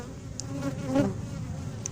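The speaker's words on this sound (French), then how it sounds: "pour le coup, j'ai plein d'abeilles, c'est bien." A close swarm of bees buzzing continuously, a dense hum that swells slightly midway.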